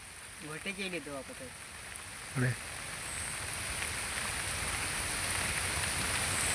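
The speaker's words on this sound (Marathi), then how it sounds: "बारीक बारीक पाऊस लागता" Light rain patters steadily, growing slightly louder over the clip, with brief talk near the start.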